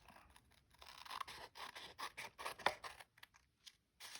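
Scissors trim around the edges of a tea-dyed paper card, giving a run of close, quiet snips and scrapes with short pauses between cuts and no talking.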